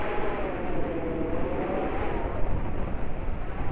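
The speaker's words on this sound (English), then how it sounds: "It's just to get out here and run this engine for a bit." A paramotor engine running in flight under an Ozone Zeno wing, a loud, continuous roar with a broad rushing texture, steady throughout with no voices.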